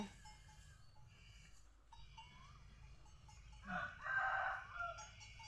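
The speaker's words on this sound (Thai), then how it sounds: "ลูกสาวให้อาหารไก่" Chickens cluck softly while being fed in a quiet Thai farmyard, with a louder burst of fowl calls near the end.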